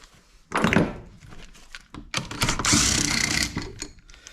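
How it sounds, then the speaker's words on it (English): A ratchet wrench turns a bolt on a nail gun being repaired, giving bursts of clicking and clattering metal contact with a few knocks and handling noises between short pauses, close and fairly loud. "The old ratchet here."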